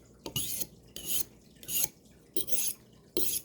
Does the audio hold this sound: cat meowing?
no